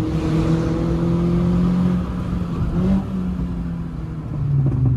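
A car lapping a race track at a trackday on wet asphalt, its engine droning steadily with pitch shifts as it changes gear and speed, loud and close from inside the cabin with no talk.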